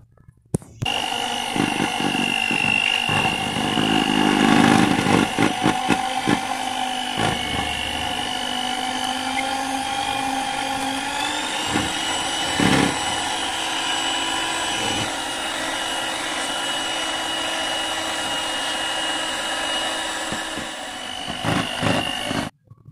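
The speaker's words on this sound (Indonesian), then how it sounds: "Jangan lupa masih tetap kita mixer." Electric hand mixer beating cake batter for pandan putri ayu as coconut milk is added, a steady high motor whine running nearly throughout with brief bumps and rattles as the beaters knock the bowl, no talking over it.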